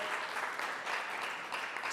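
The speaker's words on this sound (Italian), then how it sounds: "spero che lei senta l'applauso dalla sala" Steady applause from an audience in a lecture hall follows a professor's talk, a dense even patter of clapping heard at a moderate distance.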